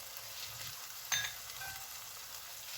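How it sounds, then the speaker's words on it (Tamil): Tomatoes with turmeric and chili powder sauté for prawn curry, giving a steady, close sizzle with a brief spoon-stirring clatter partway through. "இப்போ இந்த மிளகாத்தூளோட மஞ்சள் தூளோட பச்சை வாசம் போகிற வரைக்கும் நாங்கள் இதை வதக்கிக்கொள்வோம்."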